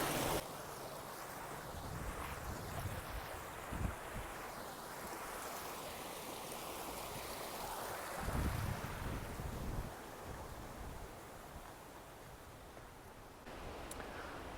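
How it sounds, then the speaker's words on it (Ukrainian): A turbulent stream rushes along a hiking trail in New Zealand, a steady broadband wash of water mixed with gusty wind noise on the microphone, continuous and fairly close throughout. "тут і бурхливий ще такий струмок стає"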